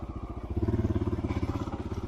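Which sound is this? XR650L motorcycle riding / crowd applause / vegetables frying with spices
XR650L motorcycle riding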